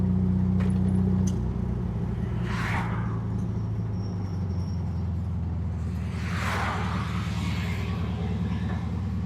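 A 1960s VW-based Ford Model T kit car drives steadily during a brake test, its engine a constant low rumble with a couple of wind-like swooshes passing by, no talking.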